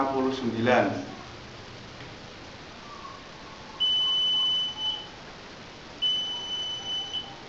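A brief voice at the start, then two sustained high electronic beeps from a small medication reminder alarm device, each lasting about a second, close by.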